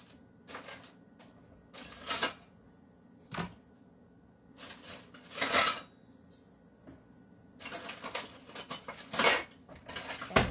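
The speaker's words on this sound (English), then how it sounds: "Take the whisk and I'm going to lighten up the, I'm going to make a huge mess and I'm going to lighten up the flour" A wire whisk scrapes and clatters against a bowl of all-purpose flour, the strokes arriving in irregular bursts of clinking and rattling with quiet gaps between them.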